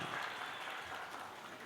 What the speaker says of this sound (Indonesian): Tepuk tangan untuk Jawa itu.